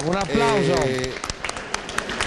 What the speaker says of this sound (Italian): Ecco, un applauso.